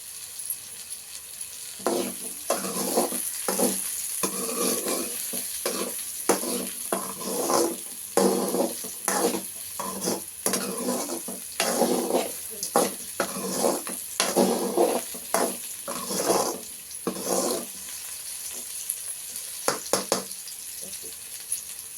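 Small pieces of tamarind frying in a pan for a banana stem roti pachadi, a soft steady sizzle with repeated scraping and clinking of a stirring utensil, close and moderately quiet.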